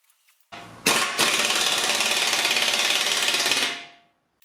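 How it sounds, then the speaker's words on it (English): A hone spins up and grinds inside a bore on a Hitachi excavator part, giving a loud, close, steady mechanical whir for about three seconds after a sharp start, then winding down. "So I'm just going to hone this out, just clean it up."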